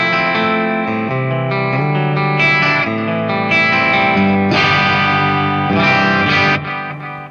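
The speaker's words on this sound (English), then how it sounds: "That's like an analog echo I've got going." An electric guitar played through the analog echo effect of a TC Electronic Nova System, loud, sustained, slightly distorted chords with repeating echo tails blending between notes, no talking.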